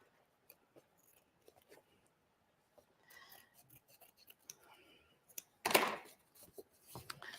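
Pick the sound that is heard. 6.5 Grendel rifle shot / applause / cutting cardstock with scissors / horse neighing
cutting cardstock with scissors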